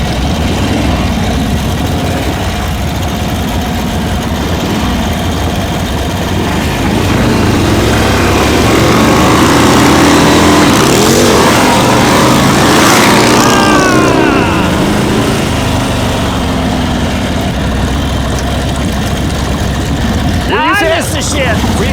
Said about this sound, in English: My bike's running perfect, and it sounds like Sean's bike's running perfect.